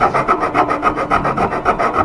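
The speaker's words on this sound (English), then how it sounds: "So what I do is I have this file," A file, slightly finer than a rasp, is drawn in steady back-and-forth strokes along a sharply curved wooden leg of a blockfront lowboy, roughly eight rasping passes in two seconds, close and loud with no talking.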